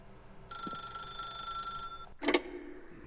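A telephone rings in the video game The Stanley Parable, a steady electronic trill lasting over a second, followed by a short sharp clatter as the receiver is picked up, with no talk.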